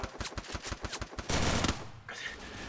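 Rapid automatic gunfire from a Free Fire match: a fast run of sharp, evenly spaced shots, then a louder dense burst and a brief higher-pitched ring, all close and loud.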